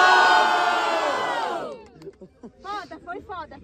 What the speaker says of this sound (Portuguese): E aí, família, muito barulho com essa batalha.